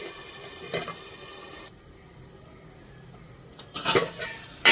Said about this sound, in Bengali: এবার আলুটা একটু ভাজা হোক, আঁচ কমিয়ে চাপা দিয়ে দিলাম।